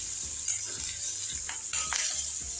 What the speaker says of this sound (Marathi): मस्त तेलावर छान फ्राय करून घ्यायच्या